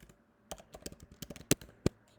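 Keys clatter on a computer keyboard in a quick, uneven burst of crisp clicks, close and clear in a quiet room.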